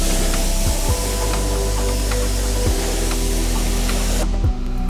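Pressurized water spray rinsing the wheels and barrels of a Cadillac during detailing, a loud, continuous close hiss with a steady motor drone underneath. Brief dips in the drone recur every second or two, and the spray cuts off just before the end.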